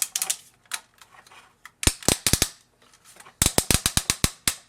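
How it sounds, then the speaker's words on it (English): Ratchet joints on a Fans Hobby MB-21 Tsunami action figure click in sharp bursts, a few scattered snaps early on, then quick close rows of loud clicks as the limbs are worked through their stops. "Really strong ratchets."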